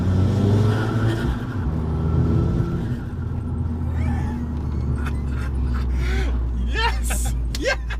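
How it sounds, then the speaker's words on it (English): Turbocharged Abarth 695 Biposto MTA tuned to 300 bhp, its engine rumbling under load and revving with audible turbo spool, with a rising whine and sharp chirps and whooshes toward the end while the occupants talk excitedly. "You can hear that spool up, that's absolutely bonkers"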